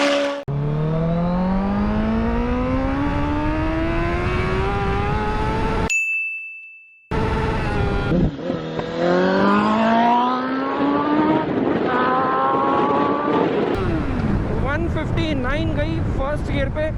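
A Honda CBR 1000RR superbike rated at 186 bhp pulls hard in first gear through moderate traffic. The engine revs climb in repeated rising sweeps, loud and close, with a brief dropout midway.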